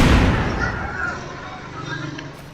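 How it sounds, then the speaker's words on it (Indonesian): A grenade launcher fires in a battle royale game, one sharp explosive burst up front that fades into a decaying rumble and crackle over a couple of seconds. "Ini senjatanya bagus nih teman-teman. Granat launcher."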